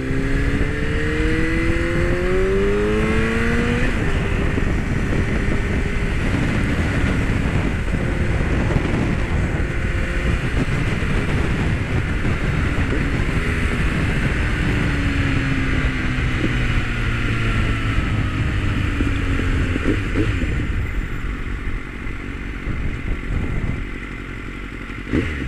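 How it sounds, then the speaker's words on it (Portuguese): A Kawasaki Z1000 motorcycle ridden on a hot day, its engine droning steadily and rising and falling through gear changes, close and loud under heavy wind rush, with no talk. "Dar aquele rolezinho de moto"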